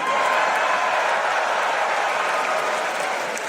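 A large crowd at a political convention in Chicago cheers and applauds in a dense, continuous roar that stays loud throughout, with no clear speech over it.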